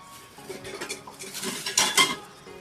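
Pot and utensils handled in a home kitchen while potatoes are set on to boil, with scattered metallic clanks and scrapes, growing louder toward the end, no talk.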